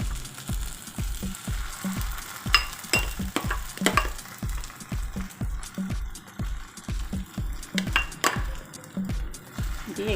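Chicken pieces sizzling in a pan with onion paste while being stirred vigorously, a rapid regular scraping rhythm over continuous frying hiss, close and fairly loud.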